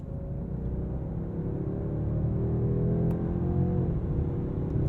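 A 2022 Mercedes-Benz S 580 engine hums smoothly under steady acceleration with a low rumble, and its pitch shifts as paddle-shift gear changes come through, heard from inside the cabin with no talking.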